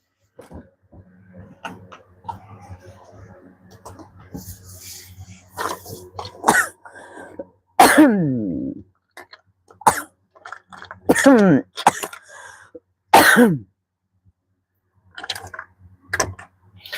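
Several harsh coughs close by, some in quick pairs, among throat clearing and scattered voices and movement, after drinking Coca-Cola mixed with ginger.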